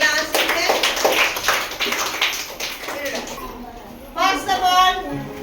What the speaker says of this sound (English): Good. Clap பண்ணிக்கலாம்.